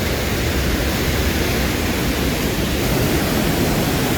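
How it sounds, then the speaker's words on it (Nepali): Sanjen river near the China border at Rasuwagadhi, Nepal, rushing as a steady, loud broadband roar of flowing water that fills the whole stretch without a break. "चाइनाबाट आएको खोला रे यार सन्जेन खोला"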